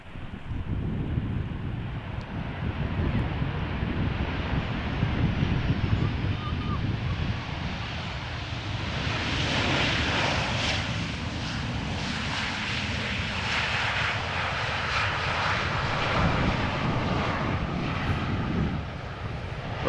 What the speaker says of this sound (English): Transavia flight 5312 arriving from Corfu.